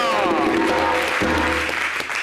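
Applause for the grand Ndumba on an Ivorian TV variety show, a steady clapping wash throughout, with music tones and a voice running underneath.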